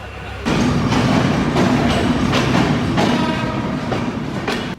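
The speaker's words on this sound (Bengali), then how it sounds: "রাত 11টা 30 মিনিটে যাত্রা শুরু করলো আমাদের ট্রেন।" A Benapole Express passenger train leaving Dhaka at night rolls along loudly and steadily, its wheels clattering in a regular clickety-clack over a constant heavy rumble, with no talk.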